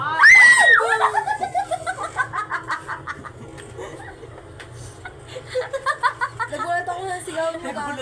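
A person's loud scream bursts out at the start, then gives way to chuckling, giggling voices and talk over a steady low hum.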